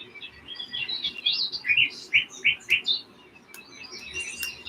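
Outdoor birds chirp in a bright series of short, repeated calls, several loud close notes in a row amid fainter twittering on a chilly sunny day.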